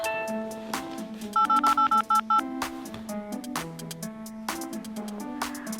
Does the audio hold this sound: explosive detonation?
no